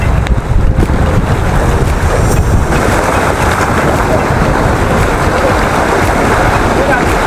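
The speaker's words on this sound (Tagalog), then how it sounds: "Medyo malakas na yung alon" Strong wind and rushing sea water roar steadily from a boat off Batangas in the afternoon, a loud, continuous wash of fairly strong waves with buffeting wind noise and occasional voices.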